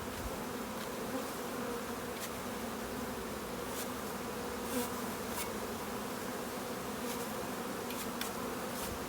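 Dense, steady buzzing of many honey bees from a package, close and continuous, with occasional louder individual bees darting past as they are brushed off with a bee brush.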